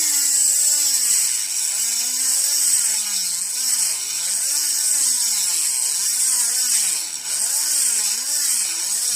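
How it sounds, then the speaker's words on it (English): A small, low-powered rotary tool grinds steadily around the edges of lock chambers to counter mill them in a challenge lock, its whine wavering up and down continuously and loud throughout. "you just turn this on and you just roll it around like that, all around the edges, and it will actually dig in and give you your counter milling."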